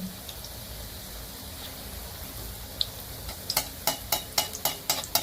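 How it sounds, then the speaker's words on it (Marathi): Bottle gourd vadas fry in hot oil, a steady bubbling hiss that turns into a rhythmic series of sharp scraping or splashing strokes toward the end, close and moderately loud. "चांगलं व्यवस्थित तळून घ्यायचं जाळी वगैरे छान पडते"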